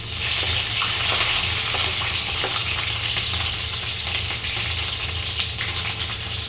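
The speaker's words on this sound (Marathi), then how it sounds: "टाकलेला आहे जिरं मोहरी मी टाकलेलं आहे लसूण आणि मिरची" Cumin, mustard seeds, garlic and chili frying in hot oil: a loud, steady sizzle with small crackling pops, heard close up and continuous throughout.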